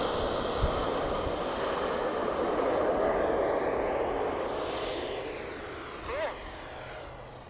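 An XFly Alpha 80mm 12-blade EDF jet RC plane takes off with a steady ducted-fan whine that rises in pitch and holds as it climbs away, while someone talks over it outdoors.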